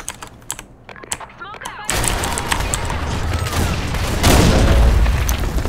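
Grenade blast in the online shooter Blackshot, a sudden loud boom at about two seconds that cuts off quiet keyboard tapping and a shouted voice, followed by dense, sustained gunfire and battle noise to the end.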